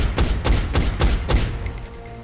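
Soldiers' gunfire in XCOM: Enemy Unknown, a burst of five or six loud rhythmic shots in quick succession, close and punchy, then a short fading tail.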